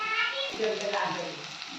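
Curry leaves fry in a hot pan with turmeric, giving a steady, close crackling sizzle through the whole moment with no clear speech.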